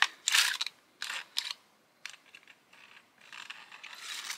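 Jammed, grinding starter pulley on a STIHL 038 chainsaw being worked by hand, giving several short bursts of dry, scraping mechanical grinding and ratcheting clicks, close and moderately loud, with no talk.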